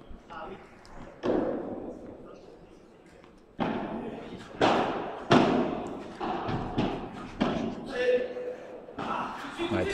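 Padel ball hits in a championship rally, a series of sharp thuds and bounces at irregular intervals that ends in a drop shot, with people talking over the play.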